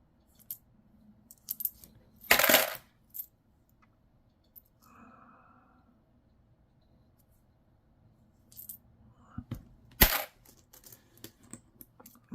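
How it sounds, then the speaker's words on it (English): Copper and zinc pennies from coin rolls clink and rattle as they are sorted by hand, with two sharp bursts of metallic jingling and scattered lighter clicks in a quiet room. "takes a while to go back through these coins"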